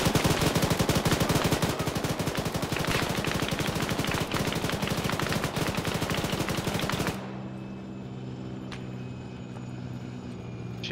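Sustained automatic gunfire from Arma 3 hammers in a rapid, loud, unbroken stream for about seven seconds, then cuts off abruptly, leaving a low ambient hum with a faint tone.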